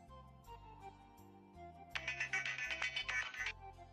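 A phone ringtone sounds for about a second and a half during a call check-up in a drama, a bright repeating electronic ring rising over the soft background music that plays throughout.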